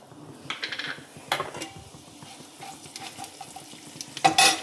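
Mustard seeds and cumin crackle in hot oil in a wok, with soft sizzling, scattered popping bursts, and a spoon stirring and scraping against the metal, ending with a louder sizzle burst; close and fairly quiet, with no talking.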